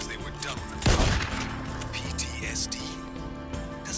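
Gunfire from a weapon in the video game Days Gone: a loud burst near the start, then a few fainter shots over a busy game soundscape of music and effects, with a voice talking throughout.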